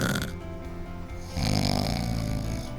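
A voice imitates snoring with a drawn-out, rattling inhale, then a louder, rougher snore.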